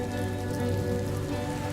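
Rain falls steadily on a house roof in a Bengali cartoon as a dense, even patter of drops that continues without a break.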